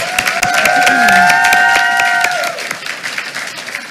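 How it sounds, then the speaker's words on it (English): A school board meeting audience gives another round of applause, loud steady clapping with tonal whistles or cheers over it, thinning out toward the end. "let's give him one more round of applause"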